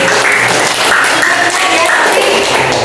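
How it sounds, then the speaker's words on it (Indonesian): Schoolchildren in a classroom clap their hands after a correct answer during a lesson on moon phases, a loud, close burst of clapping mixed with voices throughout. "Tepuk tangan."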